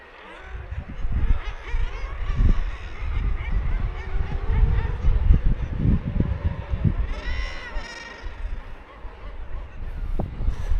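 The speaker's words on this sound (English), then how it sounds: "There were a lot of birds in the water, there were a lot of birds flapping but not taking off, and the noise, it was something else." Guillemots call from a crowded seabird colony on the Welsh coast, a dense, overlapping chorus of harsh, growling cries near and loud, rising and falling without pause.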